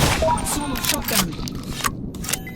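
Sawed-off shotgun blasts in the audio game Audio Defense, with dense, overlapping gunfire bursts and scraping noise running through the whole stretch alongside game voice cues.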